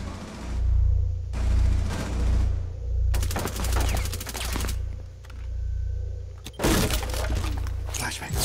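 Window glass shattering in Rainbow Six Siege on the Chalet map, heard as several sharp crashing bursts amid rapid gunfire over a steady low hum, with a player talking between them.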